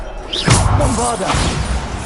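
A Bombarda spell blast goes off in Hogwarts Legacy, a broad booming crash with a whooshing swell that fills the short clip amid ongoing combat effects.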